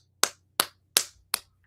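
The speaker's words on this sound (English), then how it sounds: "giving a round of applause to that one, Ryan." Five sharp hand claps, one every few tenths of a second, close and distinct with a steady low hum between them.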